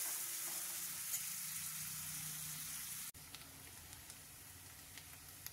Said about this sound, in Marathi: कांदा घातलेला आहे, आणि कांदा आपल्याला छान गुलाबी रंगावर परतून घ्यायचा आहे